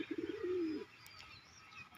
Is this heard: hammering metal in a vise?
no